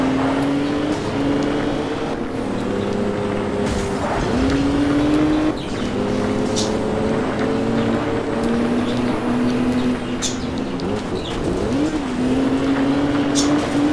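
Race cars in the video game Alarm für Cobra 11 roar continuously with a whining engine note that dips and climbs through gear shifts, with scattered thumps and tire noise as they overtake; no one talks.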